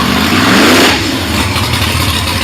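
A Corvette C8 Z06 engine with stock exhaust revs sharply and loudly at a car show, rising then dropping back to a rough, rumbling idle close by.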